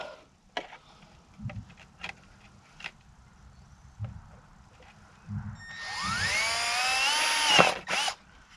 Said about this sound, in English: And I'm gonna drill 3 holes that line up on each side.